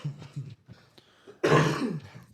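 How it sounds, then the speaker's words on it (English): One person coughs and clears their throat nearby: a few short, rough throat clears and then a heavier, drawn-out harsh cough. "Sorry for all the coughing"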